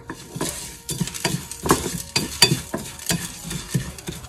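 Repeated scraping and light sizzling as dry spices are stirred and tossed in a hot pan with a little oil, close and busy, with no talking.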